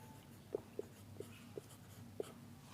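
Writing on a board during a Hindi grammar lesson: five faint, separate strokes or taps spread over about three seconds, each brief and quiet against a low room hum, with no talking.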